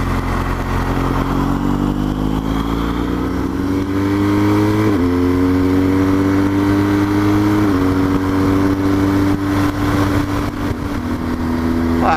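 BMW R1200GS motorcycle ridden through leafy English countryside on a winter day, its engine droning steadily close up and rising in pitch through gear changes, with wind rush throughout.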